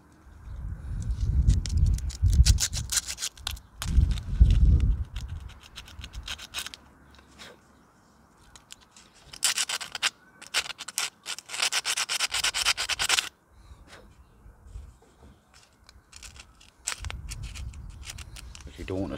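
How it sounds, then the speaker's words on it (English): Small metal ignition points inside a 25cc bush cutter strimmer are sanded by hand, giving short bursts of dry rubbing and scratching, some loud and close, with someone talking over parts of it. "Don't want to sand it too much because you want the spark at the same correct way"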